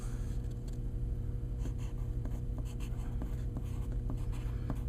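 Pen or pencil writing letter names by hand on a music theory worksheet: faint, scattered scratches and taps in short irregular strokes over a steady low hum, close and quiet.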